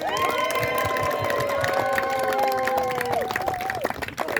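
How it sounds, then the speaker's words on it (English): Applause and cheering for a congratulated group of young people, with clapping under high sustained shouts and whoops from the crowd that trail off toward the end. "Let's give them a round of applause"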